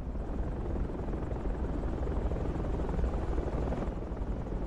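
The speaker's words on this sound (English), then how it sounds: "Chopper coming northeast." A helicopter in the military shooter Project Reality drones with steady, broadband rotor noise, loud and continuous throughout without a break or any talk.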